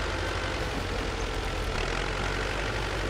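Engine of a T-40AM wheeled tractor in the off-road game Spintires: MudRunner, a steady low droning rumble running continuously at moderate level with no talk over it.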